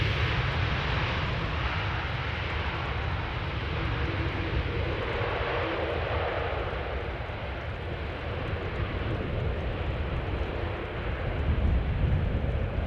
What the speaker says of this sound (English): KLM flight 767 having arrived here from Bonaire